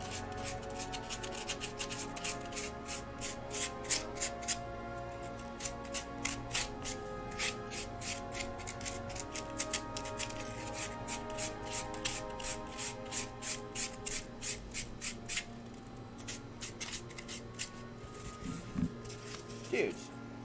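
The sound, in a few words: sanding foam for craft boat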